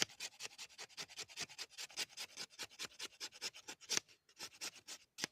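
A saw blade scrapes shavings off a piece of resinous fatwood outdoors, producing rapid, rhythmic rasping strokes, close and fairly loud, with a brief pause near the end.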